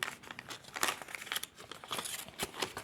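Paper surprise packet being opened by hand: faint, close crinkling and rustling of paper with scattered crackles and short tearing sounds, no talk.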